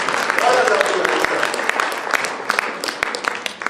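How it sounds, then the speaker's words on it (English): Audience at a spiritual retreat talk applauds, a dense burst of clapping that starts strong and thins out, with a voice speaking over it. "I think we should clap for this beautiful answer."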